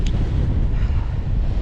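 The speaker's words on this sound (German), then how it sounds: "jetzt treibt mich wieder eine Böe weg" Stormy wind buffets the microphone during a bicycle caravan tour, a steady, loud, low rumbling rush of gusting air with no voices.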